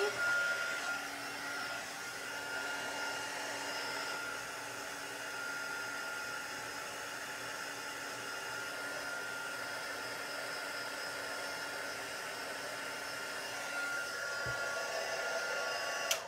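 A craft heat tool blows a steady, even whir throughout while warming a textured fluffy paint layer, with no break in its constant airy hum.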